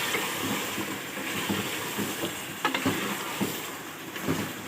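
Tomatoes sizzle and get stirred in a pot of beef biryani, a steady frying hiss with scraping stir noises and a few clinks of the utensil against the pot.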